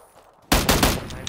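Warning gunshots fired in the battle royale game PUBG: after a quiet moment, a sudden loud burst of several rapid shots rings out close by.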